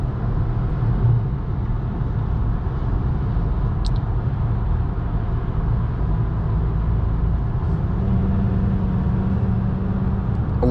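A 2023 Ford Maverick Tremor with its turbo engine is heard from inside the cabin while driving: a steady, even drone of engine and road noise holding throughout without talk.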